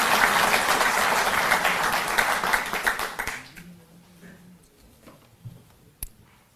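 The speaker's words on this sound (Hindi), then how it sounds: "हम जोरदार तालियों के साथ शामिल हैं" A crowd applauds loudly for about three seconds at a ceremony in India, then the clapping fades out, leaving a few scattered claps and light clicks.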